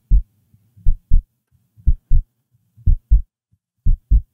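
A synthesized heartbeat built in the Vital synthesizer: deep, soft double thumps in a steady lub-dub rhythm, about five pairs repeating alone against silence.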